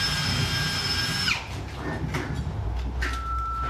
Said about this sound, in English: just hit it real quick with our countersink